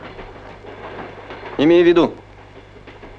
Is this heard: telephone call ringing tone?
no